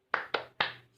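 Three sharp, close hand claps in a quick uneven rhythm ring out for the tepuk semangat clapping chant, each with a short decay, and no voices are heard over them.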